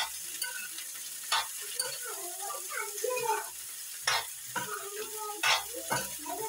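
Tinda (apple gourd) being stirred in a frying pan: a soft sizzle runs throughout, broken by sharp scrapes and knocks of the spoon against the pan.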